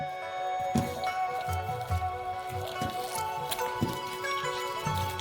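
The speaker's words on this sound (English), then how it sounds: "And knead it. It feels like this dough is more like a huge gum." Shawarma dough mixed with kansui water being kneaded by hand, giving soft, wet, repeated squishes and dull slaps at an uneven pace over faint steady background tones.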